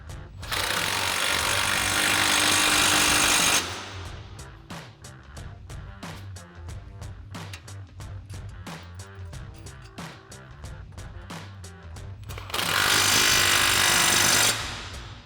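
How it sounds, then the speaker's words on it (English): An impact wrench with an 18mm socket tightens nuts on a Sierra 1500 suspension lift kit, with loud sustained bursts at the start and end and rapid hammering rattles between them, close and alone. "Now we'll go ahead and tighten these down using a 17mm wrench and an 18mm socket on our impact."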